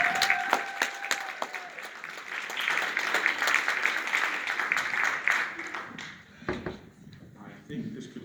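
An audience keeps clapping after a boxing trainer is welcomed to a Montreal anti-bullying event, thick applause with a voice calling over it early on, easing toward the end with a few scattered claps.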